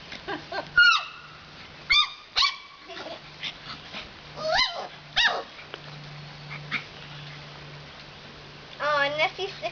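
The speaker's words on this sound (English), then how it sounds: "Look at Babe's playing with her puppies." A mother dog named Babe plays with her puppies nearby, giving scattered yips, whimpers and short barks in uneven bursts over a low steady hum, with people's voices occasionally heard.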